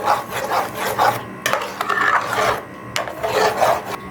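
Tamarind chutney stirred continuously in a pan, close rhythmic scraping and rubbing strokes repeating in regular sweeps, loud and alone.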